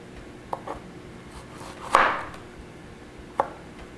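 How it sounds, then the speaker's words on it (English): Knife cutting fresh ripe tomatoes into thin slices on a board, a few soft, sparse cuts with one louder stroke near the middle, quiet and close with no talking. "Fresh ripe tomatoes are a little bit harder to slice. Just be really gentle with them and they'll slice for you just nice."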